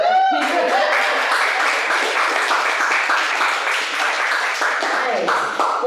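An audience bursts into loud, sustained applause and clapping at a live comedy show, dense and continuous for several seconds before tapering slightly, with a voice over it at the start.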